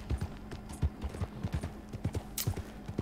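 Horse hooves clip-clopping in Red Dead Redemption 2, a steady run of close, fairly loud beats with a brief high hiss near the end, no talking.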